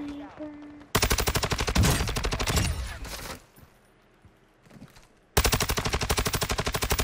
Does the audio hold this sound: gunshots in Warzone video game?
yes